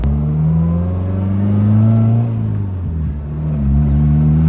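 Car on coilovers accelerating in second gear, a steady loud engine drone rising in pitch, briefly dipping at a shift, then climbing again from inside the cabin.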